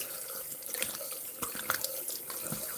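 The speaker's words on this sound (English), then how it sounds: "You get to see me wash my face." A sink tap runs steadily while someone washes their face, water splashing and trickling with a few brief knocks and drips, close and fairly quiet, with no talking.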